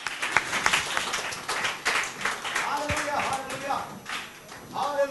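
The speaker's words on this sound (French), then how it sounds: "Priez le Seigneur avec vos applaudissements." A church congregation applauds in a steady patter of mixed claps and taps under continuous voices, with a deep thud near the middle.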